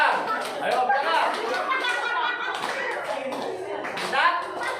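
A group of Scout participants clap their hands together in a rhythm game at an indoor camp session, the claps fairly dense and steady throughout, with chatter and voices mixed in among them.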